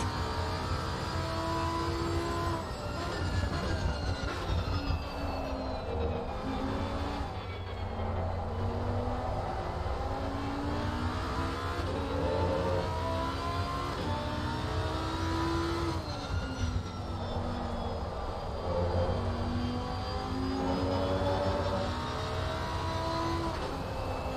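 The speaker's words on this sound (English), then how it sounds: "enjoy that sound of that engine, which sounds fantastic" A GT3 race car engine in a video game lap at Zandvoort drones loudly and continuously, its pitch sweeping up and down through gear changes and corners, with no voices over it.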